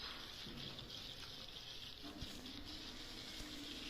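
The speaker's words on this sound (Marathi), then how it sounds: "अंडे ही बॉईल होत आहेत।" Eggs boil in a pot of water on a home stove, a faint steady bubbling and hiss with a soft low rumble, no voices.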